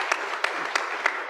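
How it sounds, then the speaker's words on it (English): A conference audience claps for the regulator at a science, technology and innovation event: a brief, dense burst of applause with a few sharper claps standing out, steady and fairly close throughout. "another hearty clap for the regulator"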